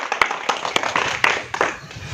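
Scattered clapping from a small audience, a handful of sharp separate claps spaced unevenly against a background of low murmur.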